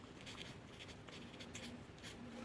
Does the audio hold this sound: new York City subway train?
no